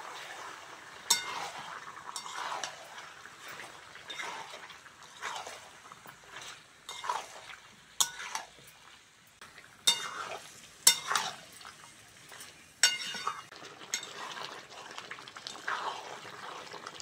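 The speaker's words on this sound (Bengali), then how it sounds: "এবার ভালো করে চিকেনের সঙ্গে সব মশলাগুলো কষে নেব" Chicken cooking with chili powder, chicken curry masala and sour yogurt in a pan, giving a low hiss with repeated close spatula scrapes and knocks at an uneven pace, fairly quiet overall.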